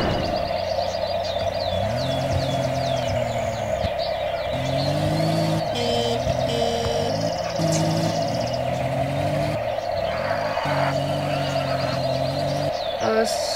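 Car engine in a street-race video game, revving and accelerating repeatedly with stepped gear shifts over a steady loud drone, with someone talking over it throughout.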